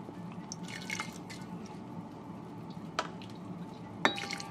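Water trickles and drips into a rice cooker pot holding rice, with soft splashes and small clinks standing out against a steady low background hum, heard close and faint.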